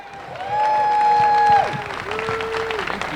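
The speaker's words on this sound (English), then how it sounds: "So everybody, please give it up for Dan Cohen" A crowd at an outdoor Free Julian Assange rally outside the Justice Department claps and cheers, loud and close, while a drawn-out whistle-like tone glides over the applause.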